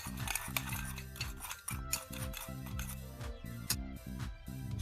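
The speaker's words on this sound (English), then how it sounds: "Just going to take a spoon and mix it up." A spoon clinks and scrapes in a bowl, mixing seasoning salt and pepper, with quick irregular metallic taps and ringing tones, fairly close and quiet, no speech.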